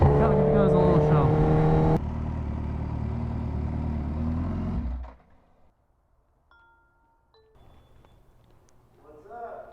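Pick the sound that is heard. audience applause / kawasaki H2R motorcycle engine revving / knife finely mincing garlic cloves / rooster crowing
kawasaki H2R motorcycle engine revving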